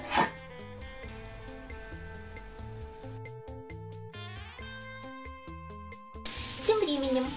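Vegetables with diluted tomato paste stew in a covered frying pan over low heat, with a soft sizzle that sits beneath prominent music and a clatter near the end.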